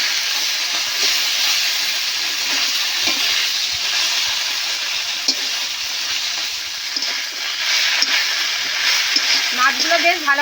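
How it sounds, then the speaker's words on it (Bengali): Hilsa fish heads frying in hot oil, a loud continuous hissing sizzle lasting throughout with faint bubbling crackle and small clatters, no speech. "মাছগুলো বেশ ভালো করে ভাজা হয়ে গেছে"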